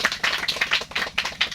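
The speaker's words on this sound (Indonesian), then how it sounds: "Tepuk tangan yang sangat meriah buat kalian sendiri." An audience at a student orientation event claps for the participants, a brisk burst of many hands with an uneven, pulsing rhythm, fairly close and moderately loud, without any voices.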